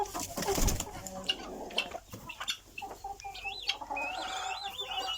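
Hens and guinea fowl cluck and chatter in a farm coop, with scattered calls over steady background noise and a louder burst near the start.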